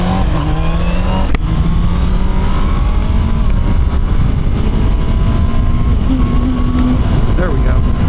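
Honda CBR 650 motorcycle with E-Clutch accelerating on the road, engine pitch climbing through gear shifts, loud and close, with wind noise and someone talking over it.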